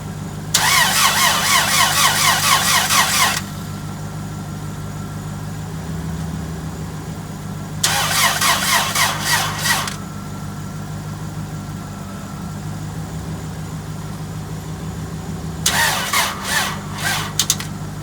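A Chevy Prizm engine fitted after a motor swap cranks in three separate bursts, each a loud rapid churning lasting a few seconds, with a low idle-like hum and quiet pauses between attempts.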